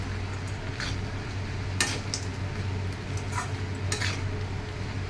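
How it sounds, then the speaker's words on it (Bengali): Sago pulao stirred with ghee in a pan, soft occasional scrapes and light clinks of a spoon over a faint steady sizzle, close and fairly quiet. "জাস্ট এটা দিয়ে একটু নাড়াচাড়া করে নিচ্ছি"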